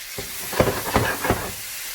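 Onions sizzle in a pan with salt added, a soft frying hiss broken by a few quick scraping stirs about a third of a second apart.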